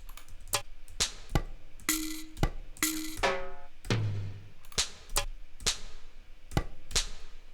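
Sharp percussive drum-hit samples in an Ableton techno track click and ping in a steady, evenly spaced series, some with a brief tonal ring, all dry and close with no voices.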